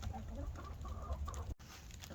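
Backyard chickens cluck softly in a small flock, with a rooster among them, a steady low murmur of short clucks and fowl calls close by, continuous for a couple of seconds before a brief dropout.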